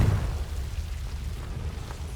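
Confringo fire-blast spell exploding in the video game Hogwarts Legacy: a deep, rumbling boom that rolls on as a low, sustained roar, loud and close, with no voices.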